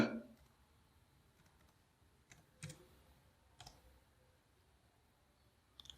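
Computer keyboard typing comes through as a few faint, sparse clicks and taps spread over several quiet seconds, with one slightly louder knock at the start.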